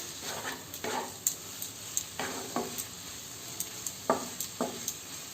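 Mushrooms frying in a pan for a matar mushroom dish over medium heat, with a steady soft sizzle and several sharp scraping stirs of a spatula, close and alone.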